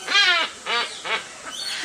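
A parrot gives three or four quick raspy chattering bursts that sound like laughter, loud and close, the last burst fainter, with no talk over it.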